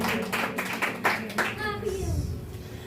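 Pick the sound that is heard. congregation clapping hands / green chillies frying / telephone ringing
congregation clapping hands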